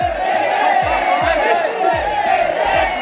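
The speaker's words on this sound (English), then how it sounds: "all the people were yelling. Everybody was cheering" A large crowd yells and cheers at a cockfight in Moalboal, Philippines, a dense roar of shouting voices rising and falling continuously, with low rhythmic thuds pulsing beneath.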